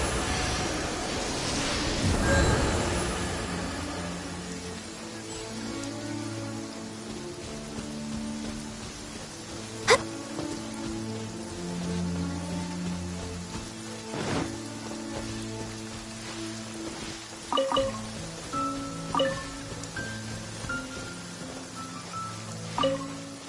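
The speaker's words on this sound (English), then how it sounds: "I love listening to the rain from the courtyard" Rain falling in a courtyard, a continuous soft hiss of drops with sharper drips and taps standing out now and then, while sustained tonal music plays underneath throughout.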